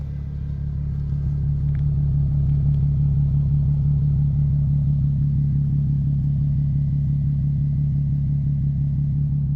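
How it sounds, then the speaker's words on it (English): A steady, deep exhaust rumble from a modified Nissan 370Z idling close by, low and unchanging throughout with no talking. "listen to the exhaust at idle"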